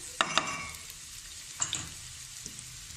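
Chopped onions hit hot oil in a saucepan over a medium flame, setting off a soft steady sizzle with a few brief stirring scrapes and clatters.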